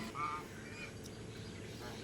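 Geese on a farm honking faintly in the distance, a brief nasal call early on over a low, quiet background murmur.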